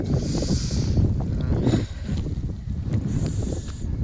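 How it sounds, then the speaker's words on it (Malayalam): Steady, strong wind roars and buffets the microphone continuously, with a brief lull before gusting again. "പിന്നെ അത്രയും കാറ്റും, നല്ല കാറ്റും ഉണ്ട്"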